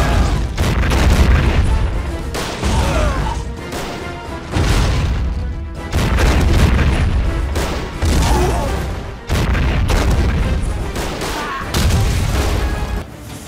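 Artillery guns fire in a Minecraft recreation of First World War warfare, a steady run of loud, heavy booms coming in regular volleys about every two seconds, each rumbling briefly before the next blast, with no speech.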